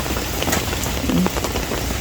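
Steady rain patters across a pechay garden, a dense even hiss of drops striking leaves and ground, close and continuous with no talking.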